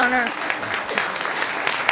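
Audience applause at a city council meeting, a short burst of clapping rising and then fading under a speaking voice.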